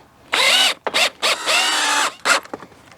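A power drill drives screws into timber roof framing for a workshop build, giving several loud close whirring bursts of varying length with short pauses between them, no talk.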